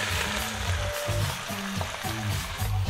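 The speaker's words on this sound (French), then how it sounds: "Je remets ma viande dans mon bol et on va tout mettre à saisir." Marinated beef chunks searing in vegetable oil for a boeuf bourguignon, giving a steady close sizzle broken by rhythmic stirring scrapes in the pan.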